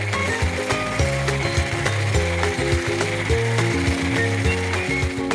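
An electric mixer whipping cream for a gluten-free clementine mousse tart, a steady close mechanical whir with shifting tones and a rattling texture as the beaters work the bowl.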